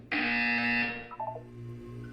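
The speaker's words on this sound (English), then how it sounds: "You will hear a buzzer." A loud, harsh electronic buzzer blares from the video game Portal 2, holding steady for about a second before breaking into a few short stuttering pulses, then settling into a fainter electronic tone.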